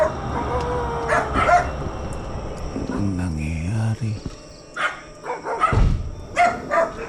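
Several dogs bark and yip outside at night around 2am in light rain, the barks coming in scattered bursts at mid distance, with crickets faintly audible and someone speaking briefly nearby.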